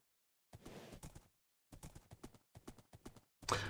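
A horse's hooves clip-clop in the Minecraft SevTech Ages modpack as it is ridden, in quick rhythmic bursts of game-style steps separated by short pauses.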